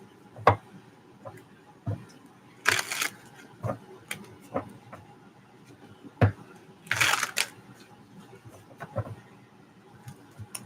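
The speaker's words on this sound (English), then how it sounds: "Last shuffle." A tarot card deck being shuffled by hand, with two short riffling bursts and scattered soft taps and clicks of cards being handled close by, no speech.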